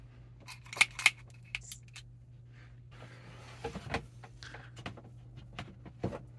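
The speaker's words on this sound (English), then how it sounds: "We're gonna go ahead and cut this pipe and we're gonna attach it to the fill" Corrugated plastic tubing is cut for a hydroponic grow system, giving a handful of sharp snipping clicks and crunches, close and fairly quiet, over a low steady hum with no speech.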